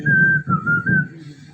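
A person whistles a steady, sustained tune in a few connected phrases, loud and close, with no talk over it.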